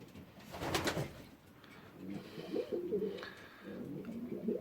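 Pigeons coo softly in a stock loft on an allotment, with low, rolling coos repeating close by after a short sharp noise at the start.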